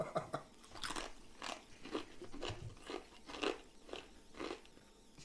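Crunchy fried chicken being bitten and chewed close up gives repeated crisp crackling crunches in a steady chewing rhythm, with no talking.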